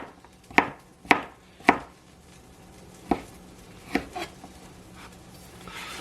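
A knife trimming the skin off a half-inch-thick slice of ginger, five or six crisp knocks against a cutting surface, spaced unevenly and growing a little softer toward the end.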